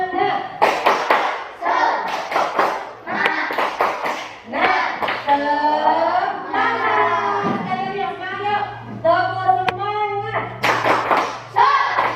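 Children in an Indonesian primary school classroom chant together in a steady rhythm, punctuated by bursts of group clapping, loud and close, with singing voices throughout.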